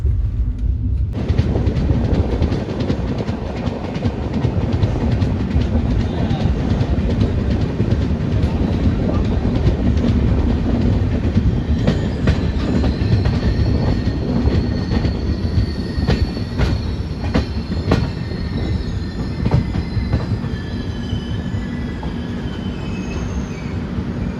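New Delhi Howrah Duronto Express running on rails, a loud, continuous rumble of wheels with repeated metallic squeals and clicks heard from on board, with no pause throughout.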